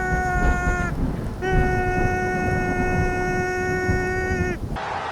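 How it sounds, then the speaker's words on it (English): A loud, steady tonal tornado siren wails as storms approach, with sustained harmonic drones, cutting off briefly before resuming, over a rumbling, noisy background like wind or rain. "it's the fucking tornado siren"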